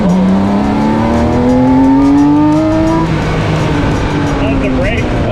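Dodge Demon engine revving loudly up close, its pitch climbing steadily for a few seconds before settling into a lower, rough idle-like drone, with faint voices in the background.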